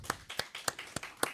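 During a Sunday church worship service, five faint, evenly spaced claps sound in a steady rhythm.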